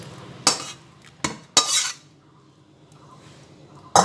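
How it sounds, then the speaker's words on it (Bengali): A spoon scrapes and clinks against a pan while aam potol curry (pointed gourd with mango and mustard) is served into a bowl, giving a few sharp metallic knocks separated by quiet pauses. "একটা পাত্র নিয়ে নিয়েছি সেই পাত্রে আম পটলটা তুলে ফেলছি"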